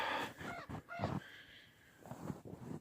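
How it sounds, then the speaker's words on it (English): A goose honks repeatedly outdoors after a heavy snowstorm, with loud, harsh calls in two bursts separated by a short pause, fairly close. "There's Mr. Goose."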